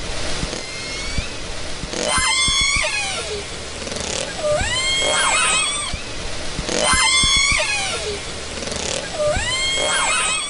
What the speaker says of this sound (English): for the first time, we are hearing what's believed to be calls from the mother to her dead calf